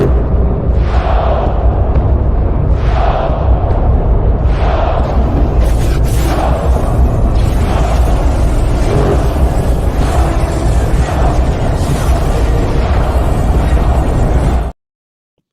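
An ion gun fires in a Star Wars video game, letting off a series of regular blasts and explosions about two seconds apart. They ride on a loud, constant rumble that cuts off abruptly.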